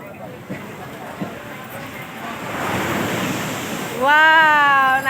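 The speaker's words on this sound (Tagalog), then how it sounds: "Naririnig nyo yung sound ng waves." Ocean waves wash onto the beach at El Nido, Palawan, in a continuous rushing surf with wind noise that swells midway, and voices are heard over it toward the end.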